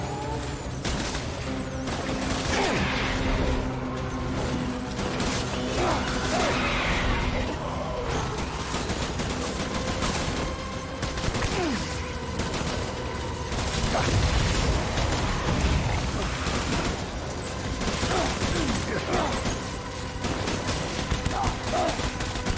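Battle gunfire in Death Stranding, with ongoing bursts and pops mixed with mechanical clatter, crashes and explosions in a busy, steady combat soundscape.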